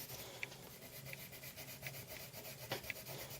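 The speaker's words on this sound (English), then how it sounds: "This is really, really burnishing now." Coloured pencil burnishes on paper in soft, faint scratchy strokes, with a few brief sharper ticks as the pencil rubs back and forth.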